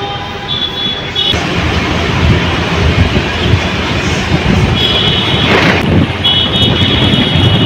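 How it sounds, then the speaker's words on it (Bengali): Aboard a train departing from Howrah, a loud steady rumble of the railway carriage fills the cabin throughout, with faint tonal hums and a couple of brief knocks layered over the constant rolling noise. "বুঝতেই পারছো আমি ট্রেনে উঠে পড়েছি"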